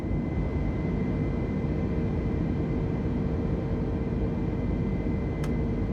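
An Airbus A320 takes off in Microsoft Flight Simulator, giving a steady, loud jet engine roar with a constant broad rumble and faint high whine, with no pauses.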